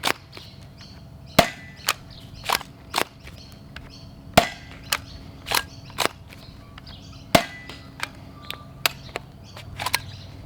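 An LP55 Dart Zone clone blaster fires bamboo darts over a chronograph, a series of about fifteen sharp, close snapping shots at irregular intervals against a quiet background.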